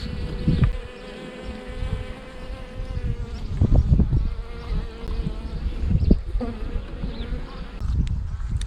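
Dense, continuous buzzing of many honeybees swarming close around a hive in a defensive state, with occasional louder passes of individual bees near the listener.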